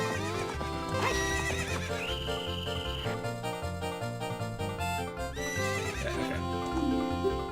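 Horse whinnying and clip-clopping hooves in Ocarina of Time over the game's melodic background music, with a brief spoken word at one point.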